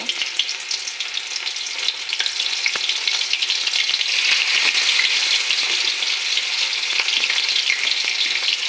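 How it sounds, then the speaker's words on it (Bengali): Salted prawns dropped one by one into hot oil for pakoras, a dense steady hiss of deep frying that swells and stays loud and close, with faint crackles and occasional small clicks, no voices. "একটা একটা একটা চিংড়ি মাছ তেলে দিয়ে দেব"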